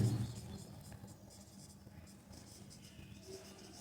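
A pen or marker scratches out an electric field formula during a Class 12 physics lesson on an electric dipole, with faint, close, continuous strokes beneath a teacher's speech.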